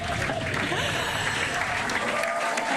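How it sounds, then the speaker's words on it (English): Spectators cheer and applaud as a SpaceX Falcon 9 first stage touches down on Landing Zone 1, a loud continuous crowd roar with clapping mixed with voices. "the crowd here is excited to see Falcon 9 touchdown on landing zone 1."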